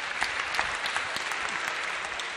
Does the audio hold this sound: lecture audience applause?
yes